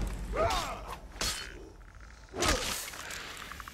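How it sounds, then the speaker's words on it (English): Skeleton bones creaking in the video game Skyrim: a few sharp, brittle rattling creaks with swishing bursts, spaced apart over a quiet background. "or the bones creaking of the skeleton that's just around the corner"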